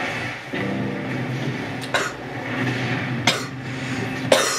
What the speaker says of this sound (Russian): гребаный кашель